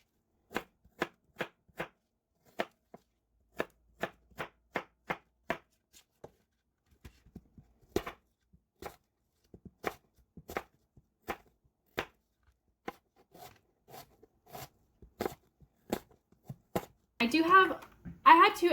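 A knife dices apples on a cutting board for apple pie oatmeal cookies, with quick sharp chops in bursts and pauses, ending with a clattering scrape of the pieces.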